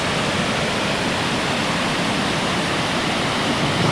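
Water cascading down overspill weirs below an upper reservoir produces a steady, loud, broadband rushing roar that holds even throughout, close by and alone.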